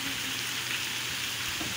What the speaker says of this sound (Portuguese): Olha aí, chuva na cidade de Serra Negra